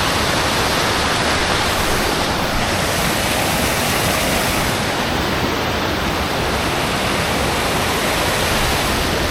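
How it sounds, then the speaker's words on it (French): A waterfall in the Pyrenees roars close by, a dense, unbroken rush of water that holds steady and loud throughout. "la cascade est sublime"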